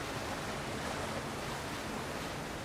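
Steady broadband rushing of a waterfall in the fantasy video game Avowed, a continuous dense wash of falling water at even loudness with no voices.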